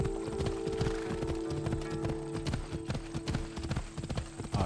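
Steady clip-clop of horse hooves trotting in a quick, even rhythm in Assassin's Creed, with an occasional whinny over a constant synthetic background tone.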